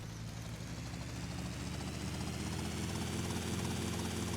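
Helicopter flying in the video game GTA Vice City, a continuous low rotor drone with rhythmic blade chop and engine hum that grows slightly louder over a few seconds.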